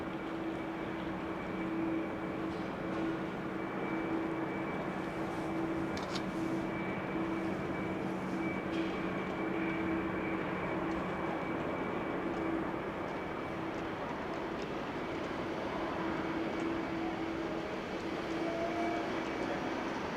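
An EasyJet Airbus A320 landing on runway 06 at Amsterdam Schiphol after a flight from Luton, a steady broad jet roar with a low hum, held evenly for about twenty seconds at moderate distance.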